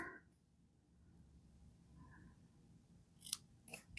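Scissors snip the trimmed end of a tied knot during a paper-crafting and stamping session, giving a few short crisp cuts close by near the end after a mostly quiet stretch.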